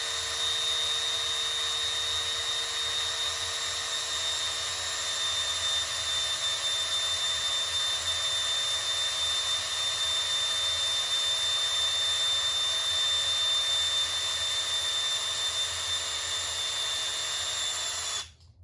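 A cordless drill spins steadily to prime the oil system of a Cummins 6.7L diesel engine, a loud, continuous whine with a constant high tone lasting throughout, then cutting off abruptly at the end.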